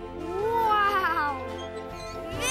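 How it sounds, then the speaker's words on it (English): A cartoon cat stuck in a tree lets out a long, wavering meow that rises and bends in pitch, loud and close over a soft background bed, with a second short cry starting at the end. "cat got stuck in the tree again"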